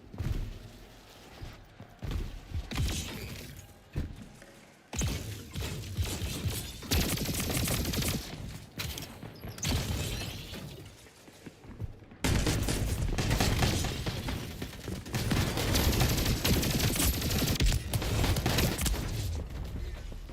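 Heavy gunfire in the Splitgate 2 video game, with shotguns in use: loud, continuous bursts of shots and booms stacked densely over twenty seconds, with brief drops between volleys and no talk.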